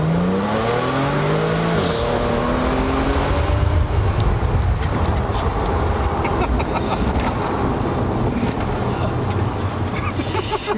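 A 2012 Audi S5 accelerates hard, its engine a loud, steady roar with rising pitch sweeps as it pulls through the gears, heard from inside the car.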